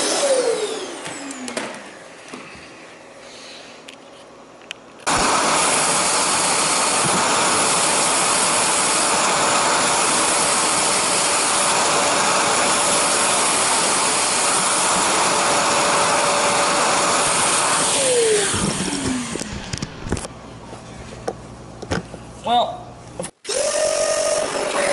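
A Zero G floating vacuum cleaner runs loudly and steadily for about fifteen seconds, a broad whooshing roar sucking up debris, then cuts off, with brief handling noises and a voice speaking before and after.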